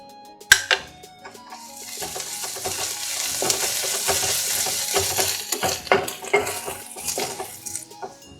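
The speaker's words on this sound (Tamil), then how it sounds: "இந்த டைம்ல நம்ம இஞ்சி பூண்டு பேஸ்ட் சேர்த்துக்கலாம்." Onions frying in a pan as ginger garlic paste goes in for a samosa filling: a strong sizzle with a spoon clinking and scraping the pot, close and busy.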